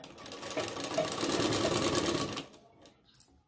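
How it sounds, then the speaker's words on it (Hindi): A sewing machine runs a continuous close seam along a cold shoulder sleeve for about two seconds, then stops abruptly, followed by a faint click. "इस कट तक हम सिलाई लगाते आएंगे"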